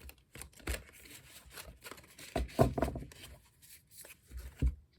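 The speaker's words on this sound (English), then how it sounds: "One shuffle." A deck of tarot cards is shuffled by hand, giving a few short, close bursts of riffling and slapping with quiet gaps between them and no voice over it.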